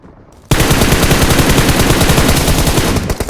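Automatic weapon fire in the video game BGMI, a sustained rapid burst of gunshots that starts abruptly after a short quiet moment and runs loud and continuous for about three seconds.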